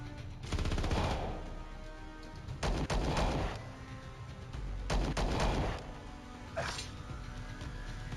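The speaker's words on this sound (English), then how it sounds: "That was a bad HMG hit." Heavy machine gun fire in the Star Traders video game sounds as several loud, rattling bursts, each lasting about a second, separated by quieter gaps.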